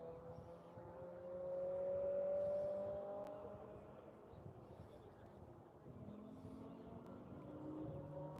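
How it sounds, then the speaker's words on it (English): Two Porsche race cars approach on the Grattan racing circuit, their engines rising as a loud drone that swells and fades, with commentary voices talking over it. "So here come the two Porsches"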